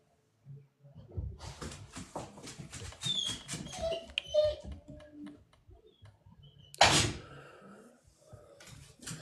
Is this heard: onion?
no